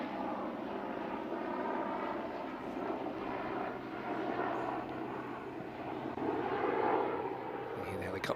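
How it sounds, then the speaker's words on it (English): A low, steady rotor rumble of a helicopter passes overhead at a cricket match in Barcelona, Spain, swelling slightly near the end, with faint voices underneath. "You hear the helicopter going over the top."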